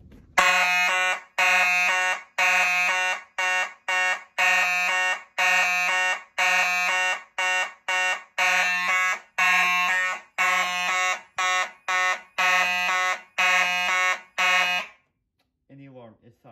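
A loud fire alarm, set off from a Simplex 4251-20 pull station during a system test, blares in repeated pulsed bursts, a harsh electronic tone cycling rhythmically for about fifteen seconds before cutting off abruptly.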